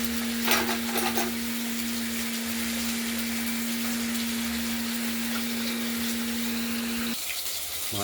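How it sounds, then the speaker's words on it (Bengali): Katla fish pieces frying in hot oil in a kitchen, a steady soft sizzle with a few clinks near the start and a constant hum that cuts off near the end. "মাছগুলো ভাজা হয়ে গেছে, আমরা ধীরে ধীরে এগুলো তুলে নিচ্ছি"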